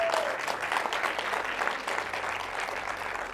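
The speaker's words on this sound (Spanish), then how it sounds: "Denle un fuerte aplauso al Rey de Reyes." Church congregation breaking into applause, many hands clapping in a dense, sustained roar that fills the room evenly from start to finish.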